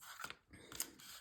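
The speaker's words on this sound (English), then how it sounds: "I'm going to cut the score line just a tad bit more." Scissors snip along a paper score line while a box is being made, giving two or three short crisp cuts close up within about a second.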